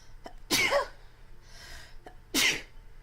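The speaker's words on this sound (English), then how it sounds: "I am going to sneeze." Two sharp sneezes, a breathy one and then a second forceful burst, separated by a quiet inhale, with no talking.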